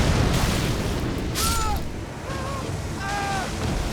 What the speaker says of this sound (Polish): To jest wybuch, prawda?